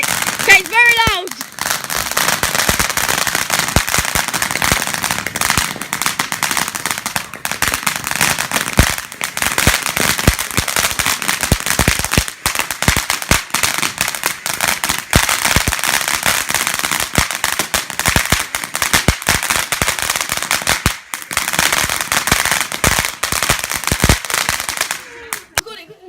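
Star Cluster fireworks at a New Year's Eve celebration in Bulgaria crackle and pop in a dense, loud, continuous barrage of rapid bursts. People talk underneath the explosions.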